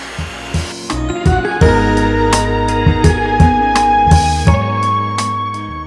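A loud motorized blender-chopper whips garlic butter in bursts, its whirring motor stopping and restarting several times with sharp clattering pulses.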